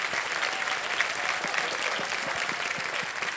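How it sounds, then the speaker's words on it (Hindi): A KBC studio audience applauds a contestant with dense, steady clapping that holds at an even level throughout and sounds close and full, without any talk. "जोरदार तालियां बज जाएं इनके लिए"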